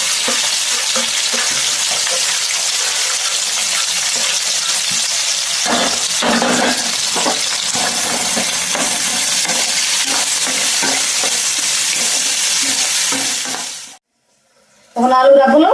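Green chillies and onions fry in hot oil in a pan for a tempering, giving a loud, steady sizzle with stirring scrapes. It cuts off near the end, then a brief clatter follows.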